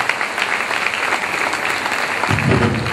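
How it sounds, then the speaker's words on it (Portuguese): A church congregation applauds in praise during a Portuguese-language sermon, a steady, dense clapping that fills the space and swells slightly louder near the end. "Aplauda o Senhor por essa palavra."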